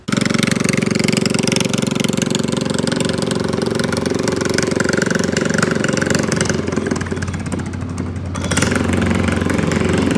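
A Predator 224cc engine on a homemade pit bike runs steadily and loud throughout, close by with a constant idle-like drone and a brief dip near the end before picking back up.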